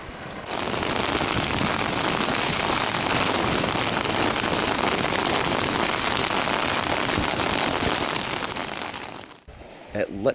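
Heavy rain pouring down at a wild camp beside a Scottish castle, a loud, steady hiss of downpour lasting about nine seconds before cutting off abruptly.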